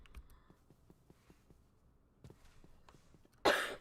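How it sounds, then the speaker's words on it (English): A single short cough from a person recovering from bronchitis, loud and close at the end after quiet background with faint tapping. "I also have a faint lingering cough because of it"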